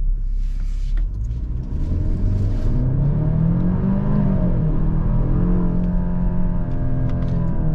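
A 2023 Genesis GV70 turbo SUV pulls away from a stop, its engine rumble rising steadily as the turbo comes on, with rising tones and a constant low road drone heard from inside the cabin.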